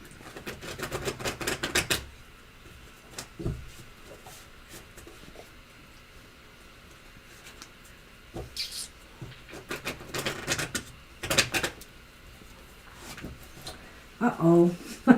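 Bursts of rapid riffling clatter, like cards being shuffled, come in a few clusters separated by quieter gaps with faint background noise.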